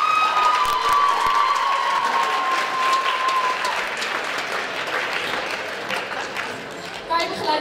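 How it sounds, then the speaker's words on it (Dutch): A school pop concert audience applauds two performers after a song, steady clapping mixed with some cheering and faint voices, with a brief high tone early on, gradually thinning out. "alvast een applaus voor ze"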